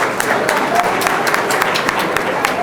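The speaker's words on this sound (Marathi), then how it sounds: "अरे जरा जोरात टाळ्या वाजवा" A crowd at a Congress party political rally in Chiplun claps loudly, with many sharp, overlapping hand claps forming a continuous, fairly close wash of applause.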